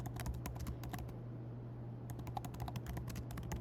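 Computer keyboard typing while editing a chart, giving fast irregular key clicks close by, with a brief pause in the middle, over a steady low hum and no talk.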